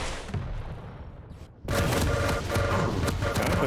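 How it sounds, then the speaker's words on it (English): Lightning gun fire in a competitive arena shooter match, a dense crackling buzz that starts abruptly after a quieter stretch and continues steadily, loud and sustained. "bang on his lightning gun aim, hitting cell after cell"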